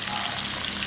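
Pieces of cuttlefish, marinated in chilli powder and salt, frying in hot oil with a steady, close, unbroken sizzle and crackle throughout, no voices present.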